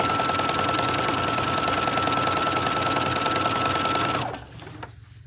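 A sewing machine runs steadily at high speed with a rapid, even mechanical hum for about four seconds, then stops abruptly, leaving a faint quieter tail.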